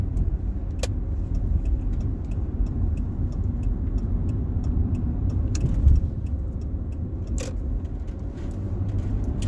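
A car cruising onto a highway while another Chevy pulls ahead, with a steady low engine and road rumble throughout, a faint jingle of keys and a few light ticks over the continuous drone.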